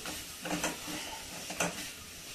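A spoon scrapes and stirs jaggery melting in a pot over a fairly high flame, with a soft continuous bubbling hiss and a few sharper scraping strokes against the pot.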